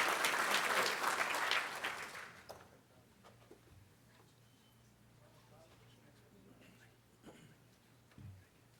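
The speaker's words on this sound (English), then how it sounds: "let's give a round of applause to all this year's entrants" An audience at a general session bursts into a round of applause that holds for about two seconds, then fades quickly into quiet room tone with only a few faint scattered noises.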